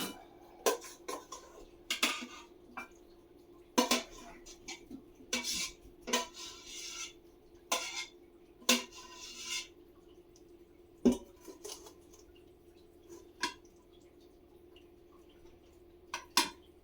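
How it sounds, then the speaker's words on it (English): A spoon scrapes and clinks against a baking pan as a wet cranberry mixture is spooned in, irregular close metallic taps and soft plops separated by quiet pauses. "Now we're going to put the cranberry mixture inside a pan"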